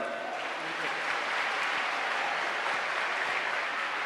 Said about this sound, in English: They need a big round of applause for themselves.